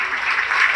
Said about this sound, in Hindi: तो उनको एक जोश उनको दिलाने के लिए जोरदार तालियां हो जाइए।